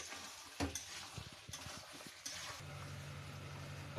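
Mutton in a yogurt-based curry is stirred in a pan, with a few scraping strokes and thumps over a quiet, steady sizzle. The sound is close but soft, and no one speaks.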